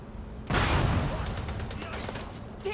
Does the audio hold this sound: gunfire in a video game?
yes